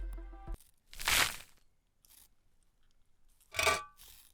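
Stiff Joyride gummy candy chewed close to the microphone in two separate crunchy, squishy bursts with faint rustles between them.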